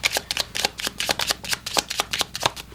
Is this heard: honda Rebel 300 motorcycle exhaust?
no